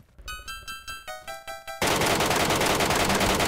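Automatic rifle in a video game firing a 20-round magazine: about nine rapid, evenly spaced shots ring out, followed by a sudden loud, sustained burst of dense noise to the end.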